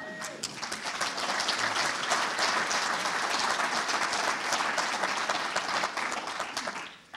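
Sustained audience applause, many hands clapping densely and steadily, then tapering off at the end.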